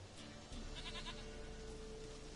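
A goat bleats in The Witcher 3 video game: short, faint wavering bleats over a steady low background hum, with no talking.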